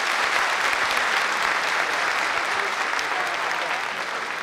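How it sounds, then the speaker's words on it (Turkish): Sustained applause from a crowd, dense steady clapping throughout with no break. "Bir büyük alkış alalım her ikisi için de lütfen"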